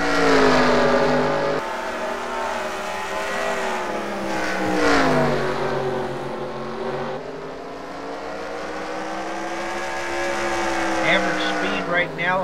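Race cars lapping Bristol drone with a sustained, shifting engine pitch that rises and falls as they circle, heard under continuous commentary.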